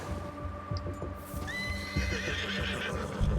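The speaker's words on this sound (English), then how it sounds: "You've unlocked rearing with this horse" Horse neighing loudly and rearing in the Red Dead Redemption 2 video game, a clear whinny over steady hoof clip-clop and a low ambient rumble, close and alone without talk.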